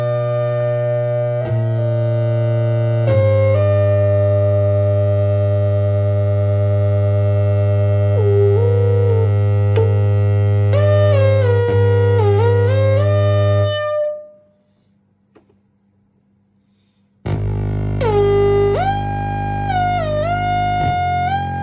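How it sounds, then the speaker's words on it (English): Sampled sounds play on a Hohner HS-1 sampler and a Korg Micro Preset synthesizer: a steady deep bass drone under a gliding, bending whistle-like lead, broken by a short near-silent gap before the bass and whistle return, loud and close. "I've got a nice bass on the Hohner side, and then I'm doing a whistle on the micropreset."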